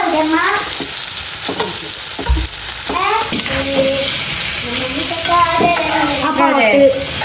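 Food frying in a pan in a home kitchen while Iftar is prepared: a steady broadband sizzle runs throughout, with a voice-like harmonic tone rising and falling over it.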